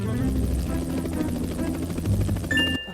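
Helicopter with a steady, loud, low, pulsing rotor drone that holds throughout and cuts off abruptly at the end.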